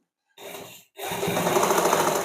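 A sewing machine runs a pressed stitch over a doubled I-hook strip on the front of a blouse, with a brief whirring start, a momentary stop, then a louder steady run nearby.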